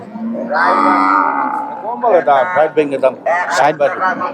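Cattle at a Bangladeshi livestock market held ahead of Qurbani give a long, loud moo that fills the opening seconds, followed by close, clear talk from people nearby.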